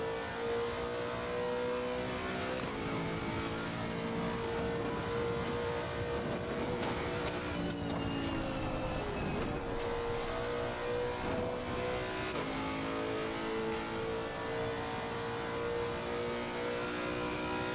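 An old-school race car in the LFM sim racing game revs hard and steadily, its engine note climbing through each gear, then dropping sharply at the shifts. The sound is loud and close, with no talking over it.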